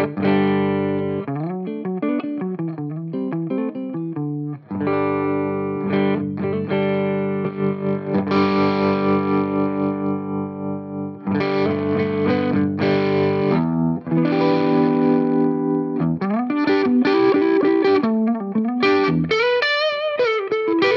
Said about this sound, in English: I will start out clean on the neck humbucker and then we'll gradually just make it more and more filthy.